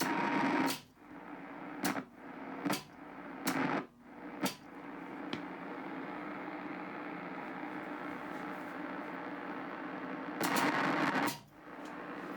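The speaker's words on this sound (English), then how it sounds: "You can hear the noise from the receiver." Receiver noise from a Marconi CM-11 transmitter setup with a transmit-receive relay in the ATU: a steady hiss and hum, broken by several sharp gaps and short bursts as the relay switches, alone with no talk.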